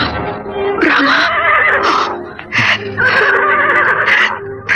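A panicking horse neighs and whinnies repeatedly, loud and close, with shrill quavering calls broken by short gaps, set in a radio drama.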